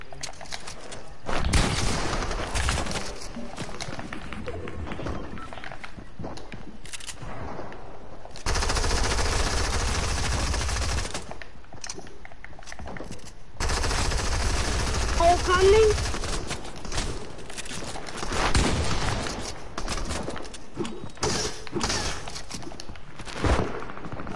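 Gunfire in a PS4 shooter game: sustained rapid automatic bursts and scattered shots fill most of the stretch, loud and dense, with a player's voice talking over the fighting.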